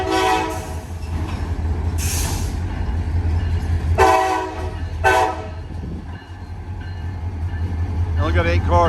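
A rolling freight train rumbles by a three-track railroad crossing with clattering wheels as several short horn blasts sound, and a voice talks briefly near the end.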